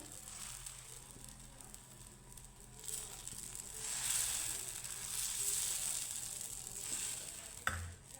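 Wheat-flour batter cooks on a hot pan as a ladle spreads it out: a steady, soft sizzle runs throughout and swells slightly midway, with a brief clink near the end.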